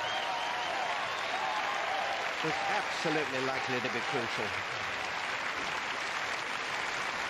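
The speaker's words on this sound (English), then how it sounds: "the applause will ring on" A Queens Club tennis crowd applauds after the Ivanisevic–Rusedski semi-final tiebreak, with sustained, even clapping filling the background under a commentator's voice.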